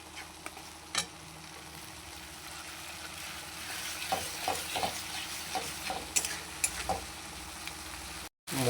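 Masala spice paste frying in oil in a pan for a fish and cauliflower curry, a soft steady sizzle with occasional stirring scrapes and clicks, alone without talk.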